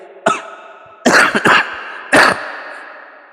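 A man with a cold coughs four times in close, sharp bursts, with short quiet gaps between them and one throaty cough set apart at the end.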